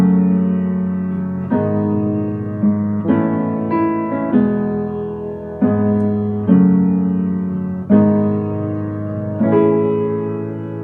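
Piano chords from the verse of a song, played at a steady, moderate pace with clear repeated strikes that ring and decay between them, loud and close with no voice.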